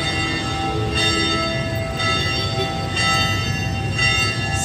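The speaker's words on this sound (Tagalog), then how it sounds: "nagbe-bell na ang church." The bell of the Metropolitan Cathedral of Immaculate Conception rings at noon, sounding roughly once per second in a steady series of strikes that carry over a noisy outdoor background.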